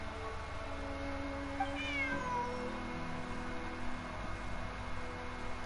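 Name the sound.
cat meowing in Genshin Impact video game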